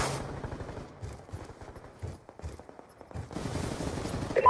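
Rapid automatic gunfire in a Call of Duty Hardpoint match, bursts of shots rattling in quick succession, fairly faint and moving between near and far.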